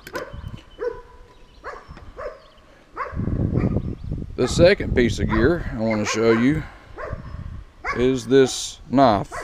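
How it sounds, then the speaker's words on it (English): Dog barking and yipping in the background in repeated bursts under someone talking close to the microphone indoors. "excuse the dog barking in the background"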